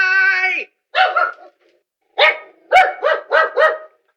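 Dog barking close and loud, an initial drawn-out whine followed by a short pair of barks, then a quick burst of four or five sharp barks in succession, with no one talking.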